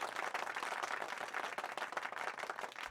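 Sustained applause from a crowd, a dense continuous wash of many hands clapping at steady volume throughout.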